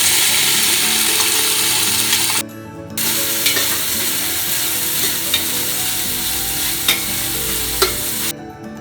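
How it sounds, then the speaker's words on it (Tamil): Sliced onions fry in ghee and oil for a beef biriyani, a steady close sizzle with repeated scraping stirs and two brief pauses in the frying. "ஸ்லைஸ் பண்ண ஆனியன்ஸ் ஆட் பண்ணிக்கிறோம்."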